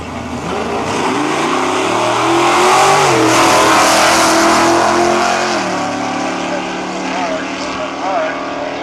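Two nostalgia drag cars, a 1963 Ford Falcon and a 1951 Chevy, launching at Cayuga, Ontario: loud roaring engines rising and sustaining through the run, with a commentator talking over the noise.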